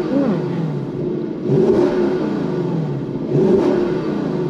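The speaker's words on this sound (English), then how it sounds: "keeping this noise down so you can hear the engine." A Lexus LC500 V8 engine revs on a cold start, heard close and loud. It swells sharply twice and falls back between the blips to a steady idle.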